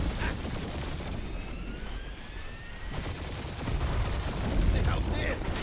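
Turret gunfire rattles through a space dogfight in the Marvel's Guardians of the Galaxy game, a dense continuous barrage with whooshing passes and a swell near the end, under voices talking.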